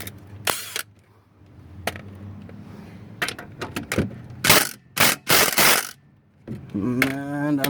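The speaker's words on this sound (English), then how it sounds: "Alright, I'm gonna try to do it with my impact." An impact wrench hammers in short loud bursts against the oil drain plug of a 2015 Nissan Altima, several sharp rattling spurts separated by pauses, close by.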